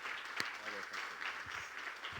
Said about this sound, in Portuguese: Eu queria que você aplaudisse bem forte a Deus por esse dia,